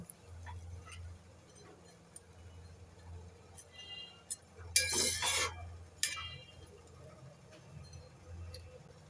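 Fried chapila fish stirred into an eggplant and potato curry in a pan, giving a few scattered scrapes and clinks with one brief, louder sizzling scrape midway, close but faint over a low steady hum.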